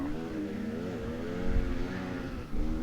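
A dirt bike engine revs steadily while being ridden fast on a dry trail, a fairly faint, continuous motor drone with one brief dip and surge near the end.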